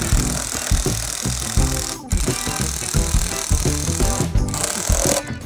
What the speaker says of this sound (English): Now we're gonna go ahead and use an impact gun, a heavy duty one, and we're gonna go ahead and install this bolt.